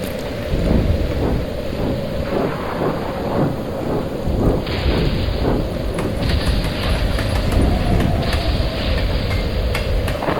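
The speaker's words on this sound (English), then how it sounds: "This rain is almost hard to see through." Heavy rain pours steadily on a film soundtrack, joined by rolling thunder, a dense loud roar that fills the whole stretch without letting up, with no voices over it.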